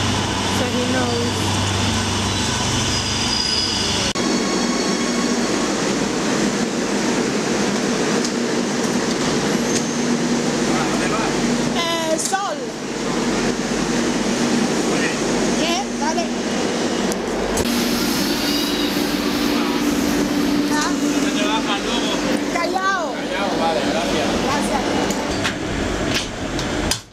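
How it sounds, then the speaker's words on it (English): A Madrid metro train pulls into the platform, a steady loud rumble with squealing wheels and whining tones, while people talk nearby throughout. "Yeah, the train is coming."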